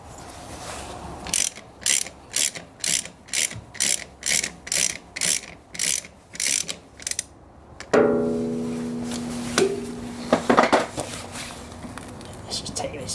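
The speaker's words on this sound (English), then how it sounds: "I'll just loosen that one a bit more." A ratchet works a stiff bolt loose on a Ferguson TEF 20 tractor, giving a steady run of about a dozen loud, evenly spaced clicking bursts, then metallic clanks and scraping of parts and tools.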